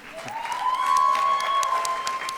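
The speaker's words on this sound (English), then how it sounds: "A round of applause, please." Applause from the audience at a glittering fashion awards night, a moderate patter of clapping that swells and holds briefly beneath a steady musical tone.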